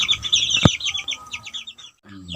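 A Bangkok fighting rooster gives repeated high, raspy calls that run like clucking and crowing, followed by a short sharp knock and more calls at close range, with no talking.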